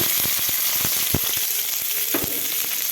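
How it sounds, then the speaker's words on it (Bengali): Chili, chopped onion, garlic and bay leaf fry in hot oil in a wok, giving a steady, close sizzle with scattered pops and the clicks of stirring, with no voices. "এটা এখন ভালো করে ভেজে নিব"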